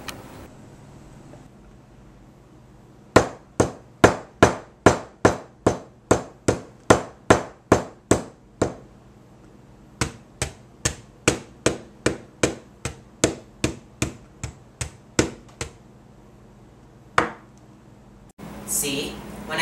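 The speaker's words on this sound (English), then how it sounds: "When a hammer was applied to both, the DVD broke and the VHS tape was fine." A rapid series of sharp hammer strikes on a DVD and a VHS tape, dozens of hard knocks in quick rhythmic bursts with a short pause midway, followed by a scraping rustle.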